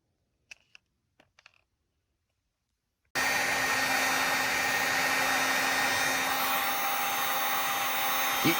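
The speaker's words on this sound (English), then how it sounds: "Heat gun." After a few faint clicks and taps, a heat gun kicks on and blows steadily, a loud, close, continuous rushing hiss that holds without change to the end.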